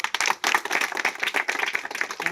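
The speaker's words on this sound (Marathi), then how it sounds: "जोरदार टाळ्या वाजवा बरं" Steady clapping from a crowd at a ceremony honouring a bus driver, dense and continuous for a couple of seconds, close and fairly loud.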